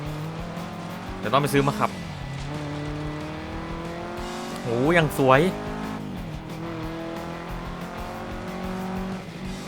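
A Subaru engine in Forza Horizon 3 drones and revs through gear shifts, with two sharp rising-falling bursts, while a person talks over it.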